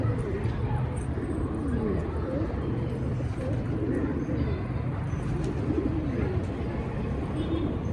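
Soft pigeon cooing repeats through a busy outdoor din, with low rumbling background noise and a murmur of voices throughout.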